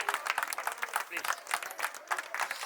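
Audience at a Gita Jayanti award ceremony at a Seva Ashram Trust event in Taiyabpura clapping in a brief burst of applause, fairly close and continuous, with a voice mixed in.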